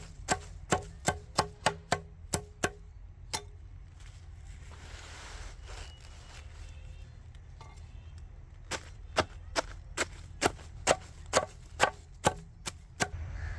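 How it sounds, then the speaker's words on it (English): Vegetable scraps are chopped into small pieces with sharp, evenly spaced knife strikes on a board, a quick series at first, a pause, then another steady run of chops, close and distinct with no voices. "Chop them into small pieces."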